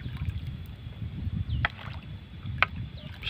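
A small boat rowed across water while plastic rubbish is collected, with low continuous sloshing and a couple of brief, sharp paddle splashes standing out.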